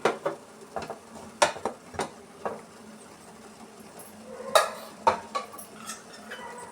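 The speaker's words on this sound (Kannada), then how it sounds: "ಈ ಥರ ಒಂದು ಸೌಟ್ ಸಹಾಯದಿಂದ ಈ ಥರ ನಾವು ಸ್ಮ್ಯಾಚ್ ಮಾಡ್ಕೊಬೇಕು" Cooked moong dal for hesarbele payasa being mashed in a pot with a metal ladle, giving a series of irregular close clinks and scrapes against the pot with soft squelchy stirring between them.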